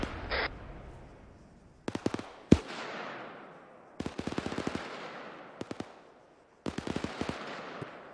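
Machine gun fire in a military video game, sharp rapid bursts of shots in several separate strings with echoing tails, loud and close against a quiet background.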